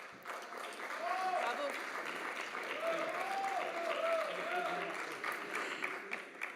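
Steady applause from an audience at a regional council session fills the scene, sustained clapping throughout with a voice speaking over it.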